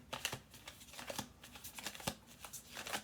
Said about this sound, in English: Do one more shuffle through.